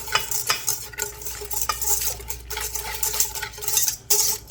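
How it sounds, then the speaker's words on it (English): A spoon stirs sugar into liquid for Pullman bread dough, scraping and clinking steadily around a bowl in quick repeated strokes, fairly close and alone with no voices. "Give this a good stir."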